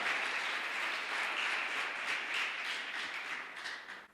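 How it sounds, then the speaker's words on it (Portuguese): Steady applause from a church congregation fills the room, broad and continuous for several seconds, easing slightly toward the end. "Você pode aplaudir o Senhor?"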